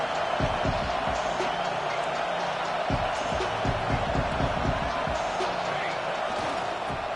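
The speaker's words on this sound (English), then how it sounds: "this home crowd is fired up and ready to make a difference today" A home stadium crowd in an American football video game roars continuously, with scattered claps and thumps, while a commentator's voice talks over the noise.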